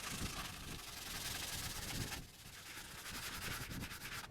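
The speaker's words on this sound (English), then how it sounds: "Back to hand sanding with a very fine 220 grit." Hand sanding a wooden end table with fine 220-grit sandpaper, close, steady rhythmic rubbing strokes with a soft, hissing scratch, alone without talk.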